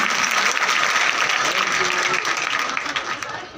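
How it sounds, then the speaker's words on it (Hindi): Loud, close applause from an audience at a road safety awareness event in Datia as two girls present a bouquet to the home minister, a dense sustained clatter that thins slightly toward the end, with faint voices in the background. "जोरदार तालियां उनके लिए।"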